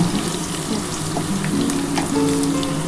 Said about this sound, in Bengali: ভালো করে আলুগুলো ভেজে নিই একটু লাল লাল করে ভেজে নেওয়ার পর